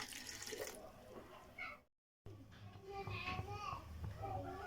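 Water is poured into a cooking pot of spiced food in a home kitchen, a splashing, running sound under background chatter with children's voices, cut by a brief silent gap.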